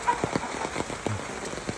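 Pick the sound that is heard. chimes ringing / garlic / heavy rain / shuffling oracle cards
heavy rain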